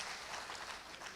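Audience applause at a Hindi poetry gathering (kavi sammelan), a brief dense burst of steady clapping from a crowd, fairly faint and distant.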